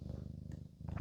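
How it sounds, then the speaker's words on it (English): A cat purrs close up, a soft, steady, rhythmic low rumble pulsing evenly and continuing throughout without any voices. "If you hear her purring"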